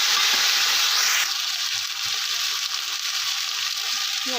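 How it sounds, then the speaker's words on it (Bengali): Green chillies sizzling in hot oil with cumin and bay leaf, a bright continuous frying hiss that flares sharply as they drop in, then settles into steady crackling close by. "জিরে তেজপাতাটা ভালো করে ফ্রাই হয়ে এলে আমি এবার গাছগুলো কাঁচা লঙ্কা দিয়ে দিলাম"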